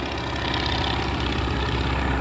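A Stearman biplane flies overhead with a steady, loud propeller-engine drone, heard alone and unbroken throughout.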